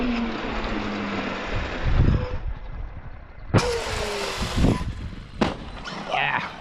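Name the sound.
Traxxas Maxx Slash 6s RC truck driving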